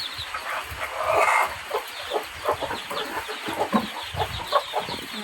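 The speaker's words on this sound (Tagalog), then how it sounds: "Mamahog tag mga manok." A flock of chickens clucking at feeding time, with many overlapping short clucks and squawks close by in a busy, continuous chatter over an outdoor background.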